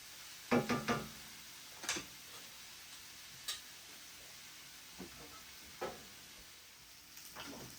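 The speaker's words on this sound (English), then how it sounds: "give that a good little stir" Vegan coconut curry being stirred in a pan, a few soft, scattered utensil taps and scrapes over a faint background sizzle, no talking.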